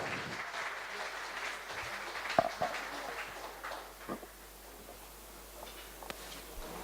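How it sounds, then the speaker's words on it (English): Audience applause at a school annual day show, a steady wash of many hands clapping that holds for several seconds before thinning out slightly toward the end. "Please a big round of applause for Mr. Avijit Kar"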